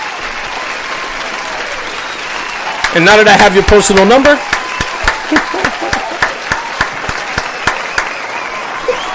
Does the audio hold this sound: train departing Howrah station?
no